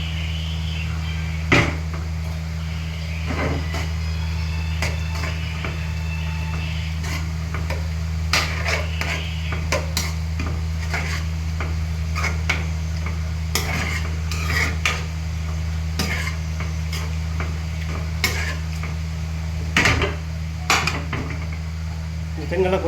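Spoon scraping and clinking inside a pot while boiled black chickpeas and potatoes with their water are stirred, scattered metallic knocks over a steady low hum, close up and without talk.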